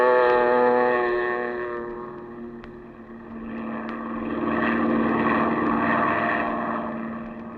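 Seaplane skimming across a bay at night in a 1948 radio drama, a steady droning engine hum with rushing water texture, swelling and easing as it runs continuously and fairly loud.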